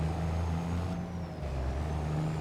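Truck in Farming Simulator 25: a loud, steady diesel drone with a low rumbling engine note that dips briefly and then returns, close and continuous, with no talking.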